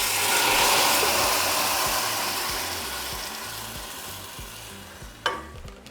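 Loud sizzling as sauce for stuffed cabbage rolls hits a hot oiled pan, the hiss easing gradually, with a brief clink near the end.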